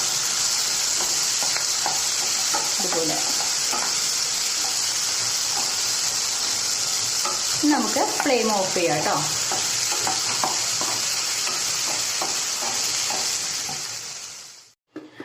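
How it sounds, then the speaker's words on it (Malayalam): Tomatoes warm briefly in a pan of oil for Kerala sambar, making a steady, close, bright frying hiss. Someone talks over it midway, and the sizzle fades near the end before cutting off. "നമ്മൾ നേരത്തായിട്ട് ഈ തക്കാളിയും കൂടെ ജസ്റ്റ് ഒന്ന് ചൂടാക്കിയാൽ മതി."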